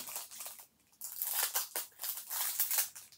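Scissors snip through bubble wrap packaging in a quick series of crisp crinkly cuts and crackles, close up, with short pauses between cuts and no talking.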